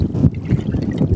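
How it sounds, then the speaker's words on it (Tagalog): Strong wind at sea just after a typhoon buffets a small boat and its microphone, a loud, continuous gusty roar with low rumbling bursts and water noise, with no one speaking. "malakas pa yung hangin"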